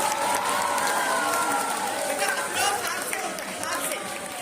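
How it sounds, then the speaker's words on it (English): A school audience at an inter-house general knowledge quiz claps for a correct answer. The applause blends with loud crowd chatter and scattered cheering, sustained and fairly close throughout. "Give a big round of applause, everyone."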